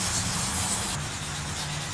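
A sanding block with 800 grit sandpaper being worked flat over a paint run, giving a steady, close, continuous hissing rub with slight back-and-forth swells and no voices.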